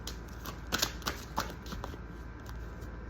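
Dream Oracle cards are shuffled close up with quick papery riffles and flicks, several louder snaps followed by steadier soft rustling.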